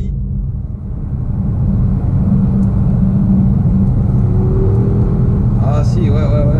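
An Audi RSQ3 engine drones loudly from inside the cabin while being driven with the paddle shifters, a steady low rumble with rising rev pitch, and a voice speaks briefly near the end.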